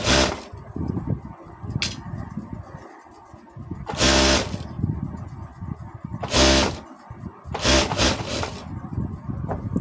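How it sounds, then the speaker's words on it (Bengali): Sewing machine stitching a kameez sleeve, several short bursts of rapid mechanical whirring with quiet handling noises and pauses between them, close by. "এখন হাতে ডাবল সেলাইটা দিয়ে নেব।"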